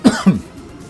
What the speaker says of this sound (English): I got the morning coughs.